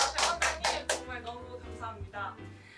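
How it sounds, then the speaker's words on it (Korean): Hospital staff clap together in a few quick sharp bursts at the start, close and moderately loud, followed by talking and laughter. "다들 박수!"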